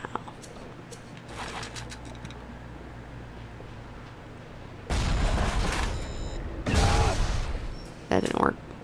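Grenade launcher in BioShock firing and exploding, a few loud booming bursts in the second half, each with a broad rumbling decay, over quieter ambient game noise earlier.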